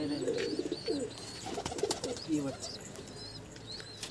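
High-flying pigeons kept at a home loft coo in repeated soft phrases while wings flap in brief bursts, with faint background voices.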